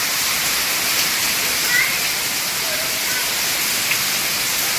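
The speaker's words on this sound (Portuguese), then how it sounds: "Boa chuva na Goiabeira" Heavy rain pours down in Goiabeira as a loud, unbroken hiss of falling water, steady and dense from start to finish with no other clear sounds.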